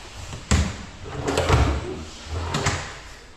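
A drawer in a lakeshore house in Tarlac slides open and shut, giving a sharp knock followed by rumbling glides and another pair of soft knocks, close by with no talking.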